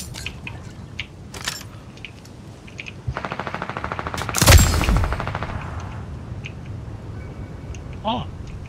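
Gunfire in Fortnite video game, a quick rattling automatic burst followed by a louder single blast, heard over steady game ambience with a voice talking faintly nearby.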